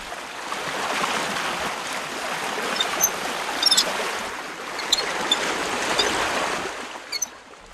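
Water rushes steadily through an opened sluice gate from the main basin feeding a salt pan, a broad continuous wash with faint splashes and ticks, swelling and easing slightly before a quieter moment near the end.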